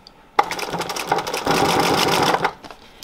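A sewing machine runs through upholstery fabric, starting with a click and then a fast, loud, rattling stitching run that holds steady before it stops.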